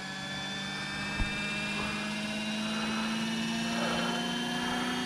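A scale RC helicopter runs at flight RPM, a constant, even rotor and engine whine with a low steady drone, held level across the span under open outdoor air with one brief knock near the start.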